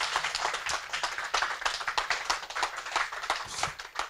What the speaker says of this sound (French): Applaudissons pour la gloire de Dieu. Applaudissons plus fort, plus fort.